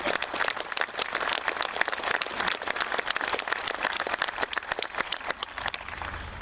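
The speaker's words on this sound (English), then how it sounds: "let's give them all a round of applause for all those who made this such a special" Crowd applause at a veterans memorial dedication in Chanute, dense steady clapping from many hands sustained throughout at moderate loudness, with no talk over it.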